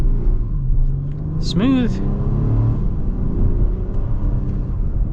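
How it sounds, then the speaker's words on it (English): 2025 Acura MDX A-Spec with a naturally aspirated V6 accelerating, a steady low engine rumble from inside the cabin, with people talking over it. "And I guess we'll get our acceleration here and then we'll just cap it off."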